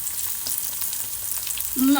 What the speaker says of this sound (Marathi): आपला कांदा फ्राय होतोय